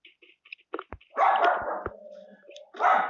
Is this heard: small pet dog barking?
yes